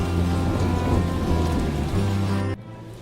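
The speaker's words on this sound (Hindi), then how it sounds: "बरसात फिर से शुरू हो जाती है" Heavy rain falling steadily, a dense, loud hiss of drops on surfaces that fills the scene for about two and a half seconds, then cuts off abruptly to a quieter low rumble.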